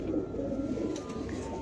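A caged pigeon coos in low, soft, continuous murmurs close by, over a faint steady background hum.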